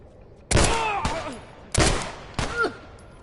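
Three loud, sharp gunshots fired in a video game, each a sudden broadband crack with a ringing tail, spaced roughly a second apart and close up, with game effects trailing the last shot.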